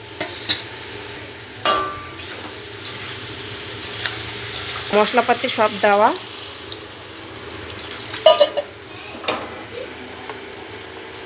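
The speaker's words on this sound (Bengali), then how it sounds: "এটার মধ্যে ভাজা চিংড়িগুলো দিয়ে দিলাম।" Fried prawns are stirred into a spiced curry in a pan with cumin powder and chilli, giving soft sizzling and wet scraping. Brief spatula clinks come between stretches of talk.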